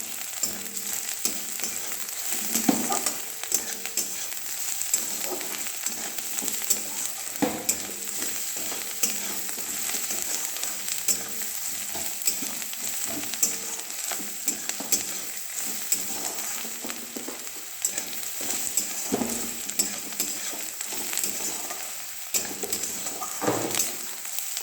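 Onions sizzle in a pan with salt for mutton keema, a steady soft crackling fry heard close up for the whole stretch, with occasional scrapes and stirring knocks.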